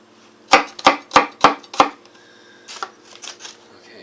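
An ordinary kitchen knife chops food on a board while pork lettuce wraps are prepared: five quick, sharp, evenly spaced chops up close, then softer scraping and tapping.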